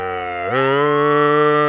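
Police car sirens in the Phoenix Wright video game sound as a loud, steady wailing tone that jumps up in pitch partway through and holds, with no talking over it.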